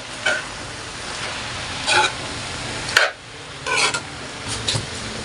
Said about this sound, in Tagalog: Haluin ko muna po.